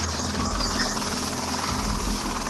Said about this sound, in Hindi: बचाव में लगा हुआ हेलीकॉप्टर आया है, मैं सुन नहीं पाया।